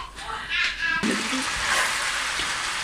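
Chicken tandoori pieces sizzle in their own water over a high flame, a steady, loud hiss and crackle that fills the pan after a brief moment of softer sound and a voice.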